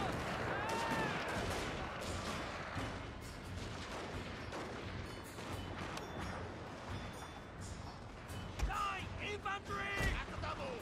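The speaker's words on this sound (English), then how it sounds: "My line infantry has suppression fire and kneel fire as well." Line infantry volleys in the Total War Warhammer 2 video game, a dense battle soundscape of scattered rifle shots and booming fire running throughout, with louder cracks near the end and voices mixed in.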